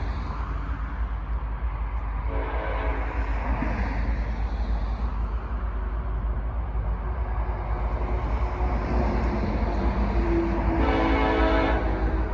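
A CSX or Norfolk Southern freight train with a Reading heritage locomotive rumbles past steadily for the whole stretch, its horn sounding briefly a couple of times over the continuous roar.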